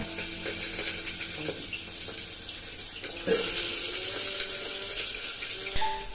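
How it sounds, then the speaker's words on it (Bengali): Scrubbed dishes are rinsed under a steady stream of running tap water at a kitchen sink, a continuous close splashing hiss with a few clinks of crockery. "বাসনগুলো কিন্তু মাজা হয়ে গেছে, এখন হচ্ছে ওগুলো ধুয়ে নেব"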